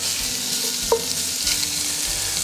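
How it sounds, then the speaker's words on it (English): Bacon sizzling steadily as its fat renders in a pan for homemade baked beans, a dense close hiss with one small tap partway through, no speech. "Bacon going in. We're gonna render this down. We're gonna cook this up nice."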